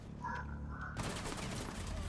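Rapid gunfire bursts in the video game Rainbow Six Siege, a dense, continuous rattle of shots starting after a brief lull with a faint tone, heard at low volume.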